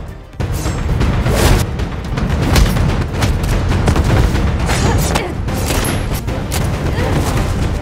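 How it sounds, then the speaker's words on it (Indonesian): Landmines detonating across an area in an action film fight scene, a dense continuous run of deep booms and blasts lasting throughout, loud and close, with sharp cracks layered over a heavy low rumble and no clear pause. "Azad mengaktifkan ranjau yang telah disiapkannya sebelumnya dan meledakkan area sekitar"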